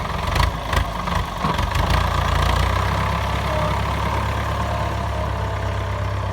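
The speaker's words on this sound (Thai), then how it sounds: "รถไถฟอร์ด หกหกหนึ่งศูนย์" A heavy diesel Ford 6610 tractor engine, nearly 50 years old, idles steadily and close by, a low rumbling chug, with a few sharper knocks and clatters early on.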